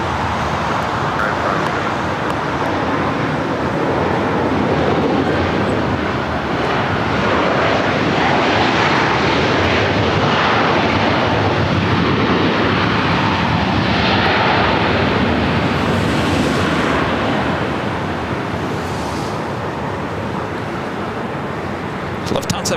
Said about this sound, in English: The Latam Dreamliner now heading here to the south side